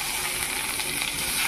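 Onions and eggplant poured into hot oil give a loud, steady, close-up sizzle that fills the whole moment without pause, with no voices over it.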